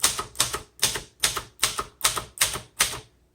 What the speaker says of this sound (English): So I'm having to be very deliberate and slow as I type, just so I hit the key right.